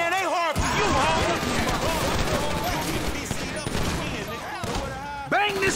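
Gunfire rattles in fast, dense bursts during a Grand Theft Auto V street shootout mission, filling the scene continuously beneath excited voices shouting over the fighting.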